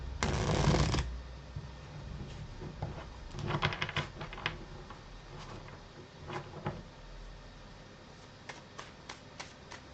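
Tarot cards are shuffled close by, opening with a loud riffle burst and then softer, irregular flicks and taps of cards spread across the rest of the clip, with no talking.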